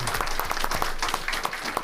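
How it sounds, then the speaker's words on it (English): An audience claps for teachers at a school board meeting, a steady mass of handclaps spreading across the room, moderately loud with no pause. "Please give them a round of applause"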